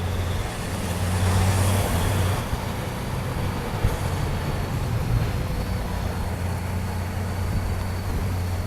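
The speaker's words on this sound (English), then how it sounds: "Tractor trailer jumping in front of you." Steady roar of heavy traffic close by in Washington DC, a tractor-trailer's low engine rumble dominating and swelling slightly early on, heard from a motorcycle, with no talking.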